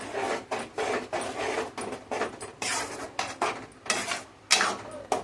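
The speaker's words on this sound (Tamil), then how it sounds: "நல்லா கிளறி விடுங்க." Ground coconut paste stirred into Kumbakonam kadappa in a pot, with repeated scraping and knocking strokes of a spoon against the vessel in an uneven rhythm, fairly close and moderately quiet.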